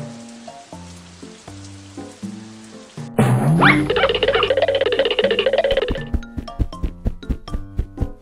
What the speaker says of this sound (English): Uh-oh, it's raining today.